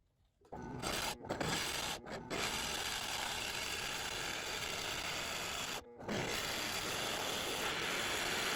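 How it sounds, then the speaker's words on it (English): A drill press boring into dense, hard zebrawood, making a steady grinding rasp that runs almost unbroken for several seconds, with brief gaps where the bit lifts or bogs down. "my drill press is kind of stalling out a little bit as I'm going through"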